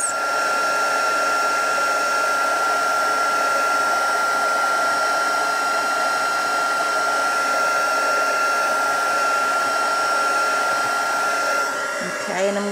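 Embossing heat tool blowing steadily and loudly near the microphone for about twelve seconds, a constant whirring hiss with a faint whine, cutting off right at the end.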